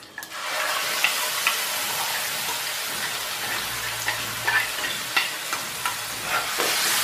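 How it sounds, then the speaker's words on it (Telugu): Spice paste for a soya chunk curry sizzles and fries in hot oil in a pan, a steady close crackle with intermittent scraping stirs and small pops, no voices. "కొంచెం ఆయిల్లో ఫ్రై చేసేసుకుందాం."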